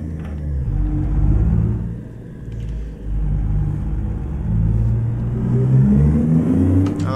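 A heavy custom Peterbilt 379 truck engine in American Truck Simulator rumbles steadily and close, rising and falling slightly as it revs, with a brief dip midway and no talking.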